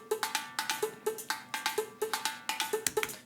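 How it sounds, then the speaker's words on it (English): A bright, metallic agogo bell rings in a steady syncopated pattern, sharp percussive strikes repeating with a Latin groove, no voices. "it opens up with this Latin-like percussion and it sounds like this"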